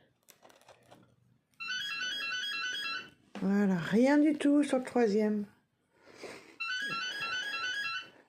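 A phone rings in two separate bursts of a bright repeating electronic trill, close and clear, with a person speaking in French between the rings.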